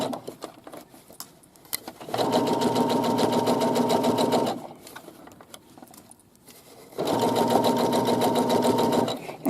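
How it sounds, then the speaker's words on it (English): A sewing machine stitching across the inseam of shorts whirs in two even, humming runs, separated by a quieter pause filled with light fabric handling and clicks. "I'm just going to stitch across to the other side."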